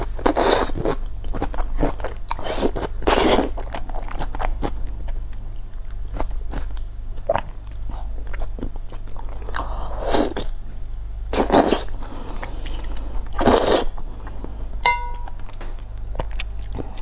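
Sheep intestine is eaten up close, with wet crunchy bites and chewing coming in irregular bursts separated by quiet pauses.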